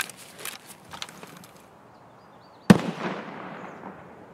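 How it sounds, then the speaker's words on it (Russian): A single sniper rifle shot in the video game Escape from Tarkov booms from a distance as one sharp report with a trailing echo, set against a quiet background of faint shuffling. "там снайпер пострелял только что"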